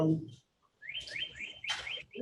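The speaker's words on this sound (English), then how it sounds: "I hear some birds. I hear birds too, sounds wonderful." Birds chirp outdoors in a short run of bright, rising chirps, fairly faint and distant, right after a moment of speech.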